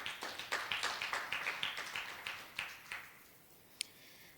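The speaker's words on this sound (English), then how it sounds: "another round of applause to our presenter." A small conference audience claps for a presenter, a brief round of scattered, fairly quiet hand claps that thin out after a few seconds, with one sharp isolated clap near the end.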